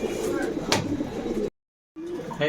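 Pigeons coo steadily at a shop selling birds, one sharp call rising out of the chorus, then a sudden cut to silence before the cooing returns briefly.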